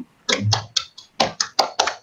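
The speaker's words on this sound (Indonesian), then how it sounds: "Ya, tepuk tangan semuanya." A class applauds after a presentation in a high school physics lesson: about eight sharp, close hand claps in an uneven rhythm, with short silent gaps between them and no talk.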